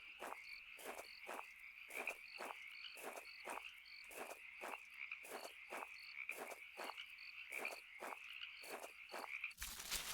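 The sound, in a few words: frogs croaking, from the video game Home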